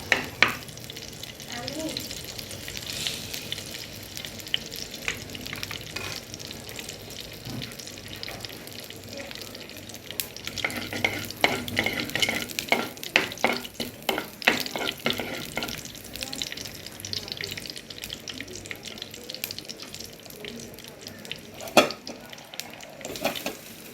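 Ingredients for pol sambol frying and being stirred in a pan, a steady sizzle broken by repeated scraping and clinking strokes, close and moderately loud throughout.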